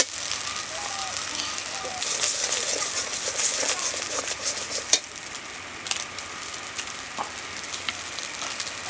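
Asafoetida sizzles and crackles in hot oil as frying for pea kochuri begins, with a steady close hiss, sharp pops and someone talking over it.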